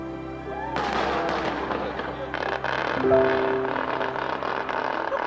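Fireworks crackle and boom continuously in the distance over the sea in Mokpo, a dense rolling patter of bursts with people talking underneath.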